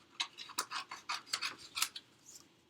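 Scissors trimming paper for a Christmas card, a quick series of about a dozen crisp snipping cuts close up, quiet and isolated.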